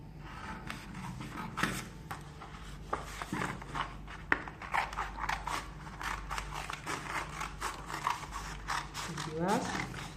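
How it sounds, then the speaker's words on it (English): Scissors snipping through fabric while cutting out a strapless tube top pattern, a quick irregular run of soft close clicks and crunches, fairly faint with faint talk at times. "You are cutting on your fabric."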